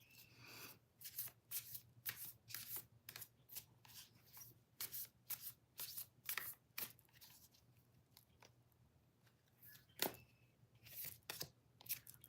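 Tarot cards being shuffled in a long series of quick, crisp riffling bursts, close and fairly quiet, with a steady low hum beneath and no talking.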